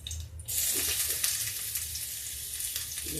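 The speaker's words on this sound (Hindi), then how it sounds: "देखिए, तेल गरम हो गया है, एक लहसुन डाल के हम देख लेते हैं।" Garlic dropped into hot oil for a village-style radish greens dish bursts into a loud, steady sizzle after a brief quiet start, crackling continuously at close range with no talking.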